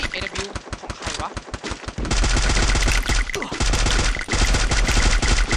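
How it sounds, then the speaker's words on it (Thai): Gunfire in the mobile battle royale game Free Fire: dense bursts of rapid automatic shots, loud and close, then sustained heavy firing with occasional single cracks. "พี่โดนเอ็นบิวยิงว่ะ"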